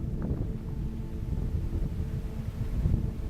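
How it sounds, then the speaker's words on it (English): Wind buffets the microphone outdoors near a bridge, a steady low rumbling roar that swells slightly toward the end, with no voices. "he doesn't want to be interrupted by the wind"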